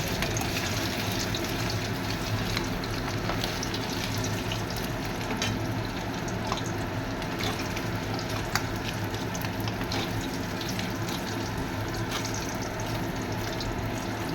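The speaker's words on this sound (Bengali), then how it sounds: "পনিরটা ভেজে তুললো" Paneer pieces deep-frying in hot oil at home, a dense continuous sizzle and crackle held close and steady throughout, with faint scattered pops.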